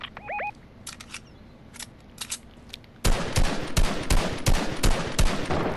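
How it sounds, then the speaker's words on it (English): Rapid bursts of gunfire in a Fortnite match, sparse shots at first and then a loud dense volley of repeated cracks over the last half, with no one talking. "Oh my gosh, I missed all my shots."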